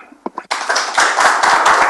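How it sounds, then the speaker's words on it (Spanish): An audience at an engineering institute talk on sorority applauds to welcome a speaker, a few scattered claps first, then a dense burst of clapping from many hands nearby. "Un aplauso."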